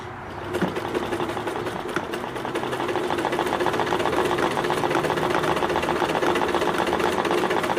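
A Nelco R400-2 sewing machine stitching a buttonhole, its motor whirring in a fast, even mechanical rhythm that starts after a brief pause and continues steadily and close up.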